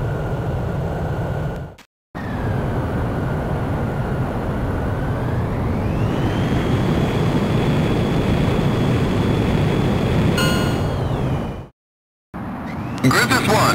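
A fighter jet takes off in the video game Ace Combat X with a loud, steady engine roar and a whine that climbs in pitch. The roar cuts out briefly near the start and again near the end.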